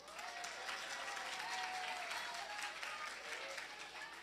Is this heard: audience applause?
yes